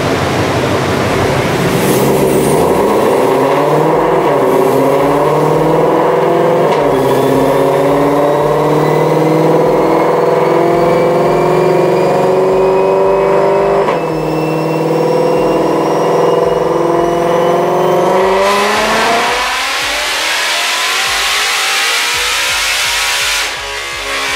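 A 2020 Shelby GT500 on a dyno, tuned for E85, winds up in one long loud pull with the engine note and supercharger whine climbing steadily, then falling sharply back near the end.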